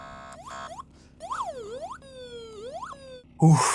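A police car siren switched on, wailing in several short rising and falling sweeps with brief pauses between them, fairly clear and close, ending in a burst of louder noise.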